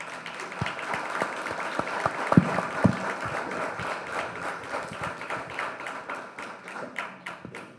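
An audience claps after a book presentation at a book fair, a dense steady wave of applause with a few louder nearby claps standing out, running throughout with faint talk underneath.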